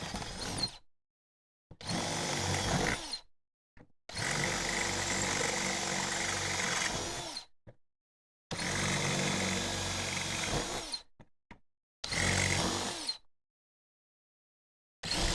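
A power drill bores into the metal body of a car while installing AC, whining in several sustained bursts of a few seconds each, separated by short silent pauses, loud and close.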